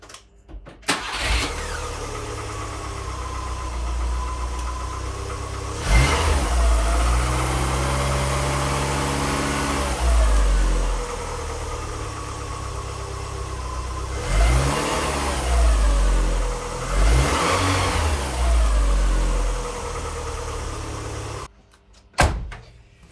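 A Rover Metro engine starting and running lumpy with no choke, cranking then idling roughly with repeated revs and surges up close, ending with a door thud.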